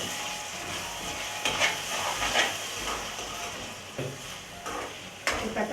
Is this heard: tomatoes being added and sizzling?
yes